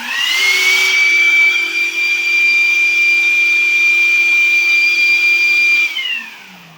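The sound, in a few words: shop vac and CNC spindle running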